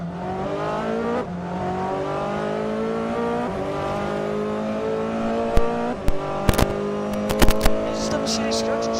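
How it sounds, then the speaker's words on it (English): Mercedes, Ferrari and Lamborghini race cars in the Assetto Corsa racing game, a loud sustained engine drone with shifting revs and gear changes, plus sharp clicks toward the end, under commentary. "Mercedes just came out and kind of disturbed them both, but it has gave the Ferrari an option to overtake the Lamborghini Matthias."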